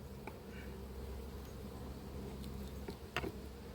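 Honeybees buzzing around an open hive at an apiary, a steady, soft, continuous drone with a few faint knocks and clicks from handling the hive.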